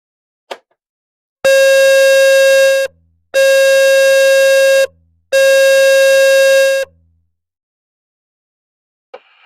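Three loud, harsh electronic threat-alarm blasts from a French school safety alarm system, each about a second and a half long with short gaps between, framed by brief clicks before and after.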